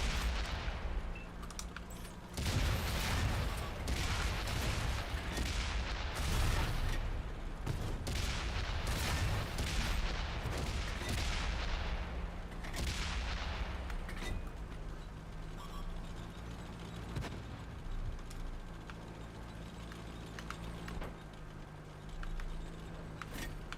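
Tank cannon fire and heavy gunfire in World of Tanks, loud and continuous, with booming shots and rattling bursts over a steady engine-like rumble and no voices.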